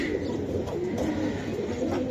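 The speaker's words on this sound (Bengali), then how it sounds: "এই যে দেন কবুতর উড়ানোর চেষ্টা করতেছে" Giribaj pigeons coo softly nearby while trying to fly, low murmuring calls over a steady background hum, with no talking.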